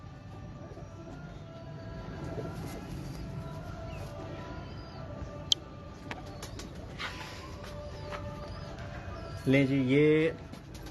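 Pigeons in a loft keep up a low, steady cooing bed throughout, with a louder close burst of rising calls near the end; someone speaks briefly over them and a few sharp knocks punctuate the sound.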